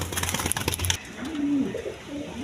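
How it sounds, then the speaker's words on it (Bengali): A pair of Resher pigeons at a pigeon farm coo softly and close by, a low throaty call swelling once and then again more faintly after a short burst of rustling and bird chatter. "এখানে এক পেয়ার রেশার কবুতর আছে"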